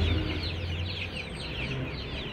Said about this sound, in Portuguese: Essa galinha, essas galinhas.